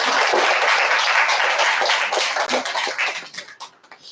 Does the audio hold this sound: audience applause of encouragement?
yes